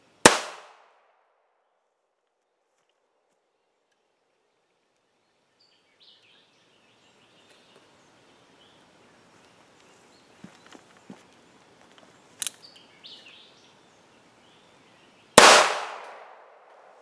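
Two sharp, loud gunshots from an NAA .22 Magnum mini revolver during a velocity test, about fifteen seconds apart, with quiet handling clicks and rustles in between.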